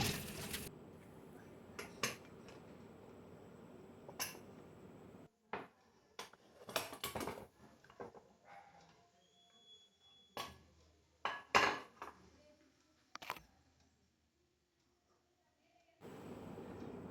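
Sharp metallic clicks and clanks as the weight is lifted off a pressure cooker of mutton bone curry and the lid is opened, sporadic taps separated by quiet pauses in a home kitchen.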